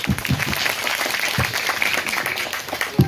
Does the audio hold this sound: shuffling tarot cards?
no